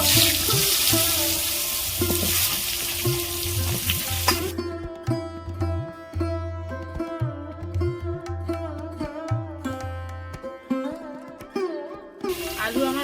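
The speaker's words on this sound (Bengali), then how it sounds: "আলুগুলো ভেজে নেব" Steady hissing sizzle of potatoes frying in oil, fading partway into quieter bubbling with scattered light clinks and stirring, then the hiss returns at the end.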